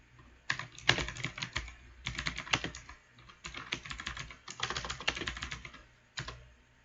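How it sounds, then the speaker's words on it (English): Typing on a computer keyboard: fast bursts of key clicks in several rapid runs separated by short pauses, close and fairly quiet, with a final isolated keystroke, no talking. "typing."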